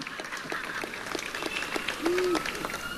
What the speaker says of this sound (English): Yeah, you can clap. It's okay to clap.